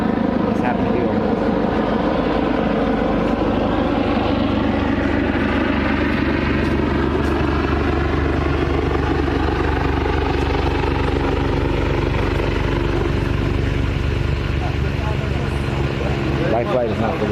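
A life flight medical helicopter passes overhead with a loud, steady rotor thrum and whine that shifts in pitch as it moves, and a voice speaks over it.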